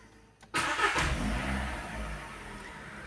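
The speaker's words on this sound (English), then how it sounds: "Start the engine." A car engine cranks and fires after a brief silence, roaring up with a revving burst before settling into a steady, loud idle, heard during checks on a car AC system blowing warm air.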